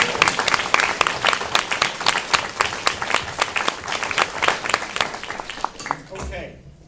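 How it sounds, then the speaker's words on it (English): Audience at a university scholarship awards ceremony gives a round of applause for graduate studies staff, a lively crowd of sharp, dense hand claps that carries on steadily before tapering off at the end. "So please join me in a round of applause acknowledging their service"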